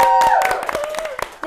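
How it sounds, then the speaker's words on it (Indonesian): An audience at a Duta Genre event in Wonosobo claps briefly, scattered and close, while a voice talks over the applause. "Luar biasa, tepuk tangan dulu dong"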